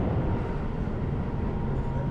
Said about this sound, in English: I decide to take the train that runs alongside it to Kawasaki